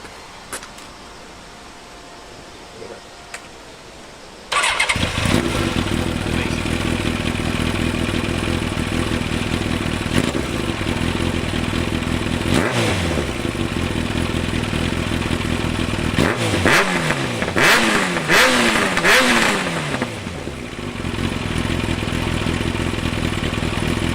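Yamaha R1 motorcycle with a modified open exhaust barks to life after a few quiet seconds, then settles into a loud, steady idle broken by several sharp rising revs and throttle blips, close and alone.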